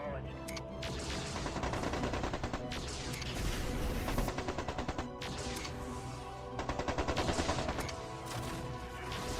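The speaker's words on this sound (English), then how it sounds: "that's, I believe, a heavy autocannon on the Atlas" Heavy autocannon on an Atlas mech in MechCommander 2 pounds away in rapid, rhythmic bursts of loud impacts and explosions, sustained across the whole stretch with brief pauses between volleys.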